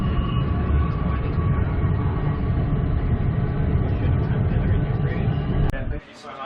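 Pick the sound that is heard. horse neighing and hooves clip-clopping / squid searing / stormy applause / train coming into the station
train coming into the station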